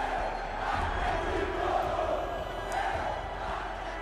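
Atlético Mineiro supporters roar in a stadium crowd in Morocco, a dense, steady wash of massed voices chanting and shouting at a distance, sustained without breaks throughout.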